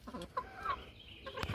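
Hens in a coop give several soft, scattered clucks close by in a quiet space, with no talking.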